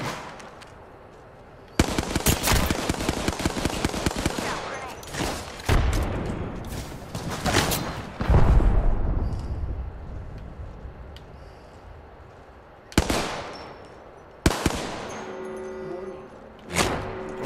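Bursts of incoming gunfire in a video game, a long rattling volley followed by separate heavy impacts and sharper bursts, loud and close, with quieter gaps between them.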